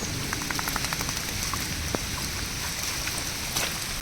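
Heavy rain pours steadily over flooded farm fields in Konkan, a dense continuous hiss with scattered drips and patters close by.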